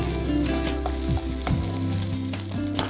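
Egg and tofu paneer cook in a pan for a samosa filling, a steady close sizzle with a few brief scrapes, set against a sustained tonal hum in the background.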